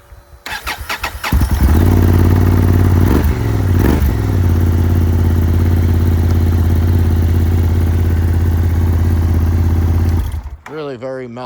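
A 2025 Honda Hornet CB750 fitted with an Akrapovic full exhaust and dB killer starts up, then idles with a deep, steady, mellow drone for several seconds before cutting off.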